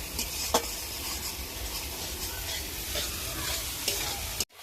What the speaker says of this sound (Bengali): এই যে পোস্ত, কাজু আর কাঁচা লঙ্কা যে একসাথে বেটে রেখেছিলাম দিয়ে দেবো, একসঙ্গে ভালো করে কষে নেবো